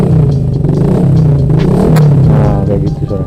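A motorcycle engine fitted with a DB Killer exhaust insert revs hard and close, a loud deep throaty exhaust note swelling and falling in a few quick blips.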